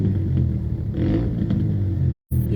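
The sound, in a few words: motorbike engine revving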